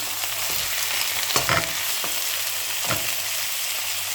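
Minced meat frying in a pan for stuffed peppers, a steady close sizzle broken by a few louder scraping stirs of the spatula, with no one talking.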